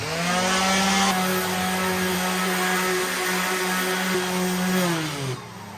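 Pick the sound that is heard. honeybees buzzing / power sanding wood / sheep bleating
power sanding wood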